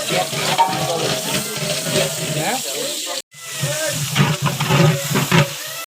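About two kilograms of onions frying in a large pot for beef curry, a loud continuous watery sizzle and hiss with stirring scrapes, briefly cut off then resuming, while voices talk nearby.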